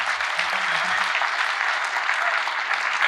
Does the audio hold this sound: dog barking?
no